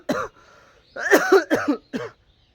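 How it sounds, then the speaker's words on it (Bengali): A person with a lingering cough coughs alone, once and then in a quick cluster of three or four harsh, close bursts. "আমার কাশি কবে থেকে হচ্ছে এখনো সারেনি।"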